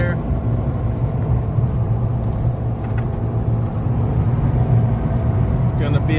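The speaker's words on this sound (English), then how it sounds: "Gonna be a dicey drive to the cabin today." A vehicle travels a rough road toward a remote off-grid cabin, giving a steady low engine rumble with continuous road noise throughout and faint rattles near the end.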